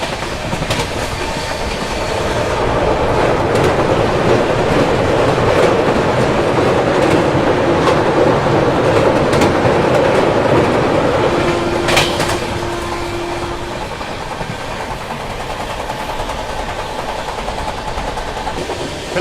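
Rajdhani Express passenger train running fast on rails near Dahod in Gujarat, a loud continuous roar with rhythmic clickety-clack of wheels over joints, heard alone from on board.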